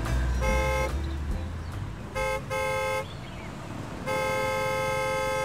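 Car horns honk repeatedly along a cartoon street, with a low rumble at first, then bright steady toots in bursts of varying length, the last one long and sustained.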